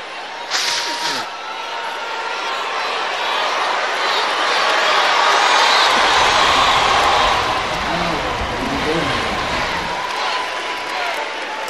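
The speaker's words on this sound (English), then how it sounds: "even when Barack Obama blows his nose on stage, that people applaud" A crowd cheers and applauds for Barack Obama after he blows his nose on stage at a campaign event, a broad wash of claps and cheers swelling for several seconds and then easing off.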